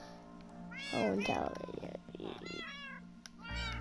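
Several cats meow at close range, layered rising and falling cries overlapping a brief spoken exclamation and continuing after it.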